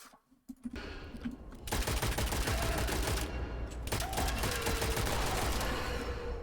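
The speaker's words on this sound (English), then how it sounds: "actual gunfire is pretty loud" Gunfire in the video game Witchfire: rapid automatic bursts rattle out loudly after a brief quiet opening, with a short pause between long volleys of shots.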